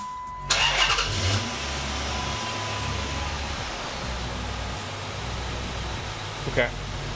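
A ute with a P0507 idle fault cranks briefly and catches, then settles into a steady, moderately loud idle with a faint hum behind it, as voices murmur nearby.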